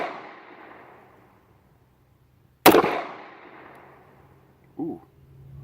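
A Norinco TT33 pistol chambered in 9mm fires a single loud, sharp shot at a 25-yard steel target, followed a couple of seconds later by a fainter second report, with a quiet range in between.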